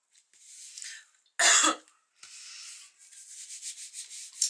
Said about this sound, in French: Je vais vous casser les oreilles à force de tousser.